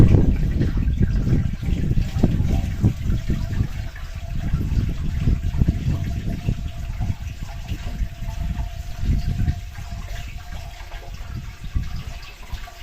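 Steady stream of room-temperature water pouring into a large autoclave pot holding jars, a close, continuous gushing and sloshing sound that varies slightly in strength.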